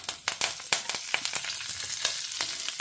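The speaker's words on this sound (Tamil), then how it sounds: "ஜீரகம் பொரிய ஆரம்பிச்சுடுத்து." Cumin seeds spluttering in hot oil in a home kitchen pan, a busy run of sharp crackling pops and sizzling bursts at close range, with no voices.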